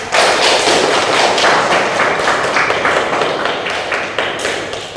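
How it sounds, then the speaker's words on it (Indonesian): Classmates in a school lesson applaud a fellow student, a dense, steady burst of many hands clapping together for about five seconds, loud and close, tapering slightly toward the end. "Berikan tepuk tangan kepada rekan."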